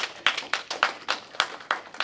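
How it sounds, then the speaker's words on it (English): Sparse, quiet clapping from just a few people at an awards show, about nine distinct claps in an uneven rhythm with short gaps between them. "let's give him a round of applause"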